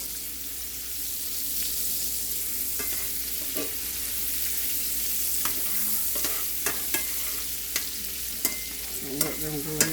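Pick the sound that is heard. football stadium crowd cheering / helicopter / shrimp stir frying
shrimp stir frying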